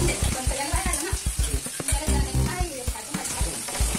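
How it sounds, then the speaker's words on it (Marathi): Spices sizzle and crackle sharply in hot oil as tempering for biryani, with rapid popping bursts over a steady frying hiss, close up and loud. "तो आता फोडणी देत आहे."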